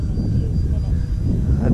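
An SR-71 jet flying past, a heavy broad rumbling roar with wind noise, loud and close, steady over a brief moment.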